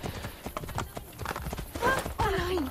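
Horse hooves clip-clop at a steady trot in the video game Assassin's Creed Brotherhood, followed by a short whinny, with faint speech underneath.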